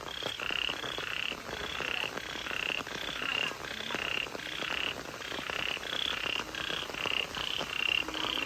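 Frogs croaking at night during heavy rain, a dense chorus of rhythmic repeated croaks over the constant hiss of rainfall, close and steady with no talking.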